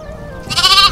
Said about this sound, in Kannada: ಕಿರಾಣ ಕುರಿನ ಹಿಡ್ಕೊಂಡು ನೋಡಪ್ಪ